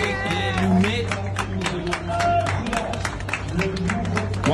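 A crowd claps at the announcement of French election results, a steady patter of applause running throughout alongside a low hum and a voice speaking over it.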